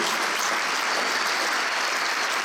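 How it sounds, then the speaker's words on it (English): Sustained applause from a crowd, dense and even clapping that holds steady at a fairly loud level throughout. "I'm glad to hear you applaud"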